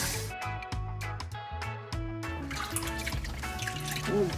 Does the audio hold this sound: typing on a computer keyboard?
no